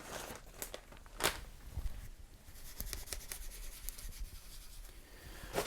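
A wet wipe is rubbed over the keyboard of an Atari 400 Mini, giving close, steady scrubbing and rubbing strokes with a few sharper swipes and no talk over it.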